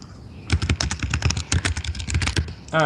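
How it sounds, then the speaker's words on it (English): Rapid, loud clatter of keys being struck on a computer keyboard, a dense burst of uneven clicks close up, ending with a brief tonal sound. "Who's hammering away? Loud typing."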